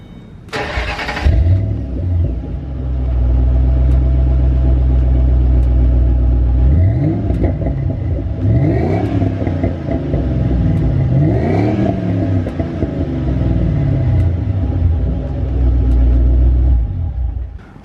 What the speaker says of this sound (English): I'll go ahead and give you guys a quick little exhaust clip.